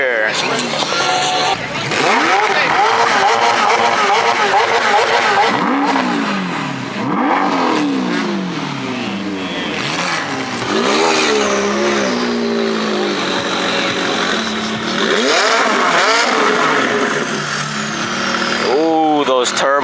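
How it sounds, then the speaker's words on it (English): Twin-turbo Lamborghini Aventador at an underground car show, revving hard with sharp rising and falling engine sweeps and turbo whooshes, loud and close, with people talking and cheering underneath throughout. "those turbo sounds sound crazy"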